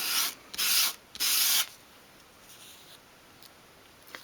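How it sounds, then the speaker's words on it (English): A small 1/12th scale dolls house kitchen piece is drawn across sandpaper at an angle to bevel its edge: three quick, close, rasping strokes, then near quiet with a faint scrape. "hold the piece at a 45-degree angle and sweep it towards you. And that just starts to bevel off the edge like that"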